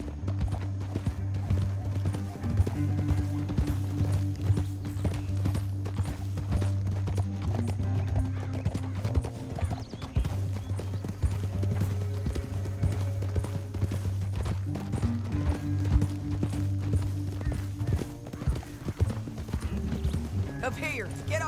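Rhythmic clip-clop of horse hooves in Red Dead Redemption 2 keeps a steady trotting pace throughout, with a low music bed and occasional voices underneath.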